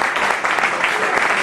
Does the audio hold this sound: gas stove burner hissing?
no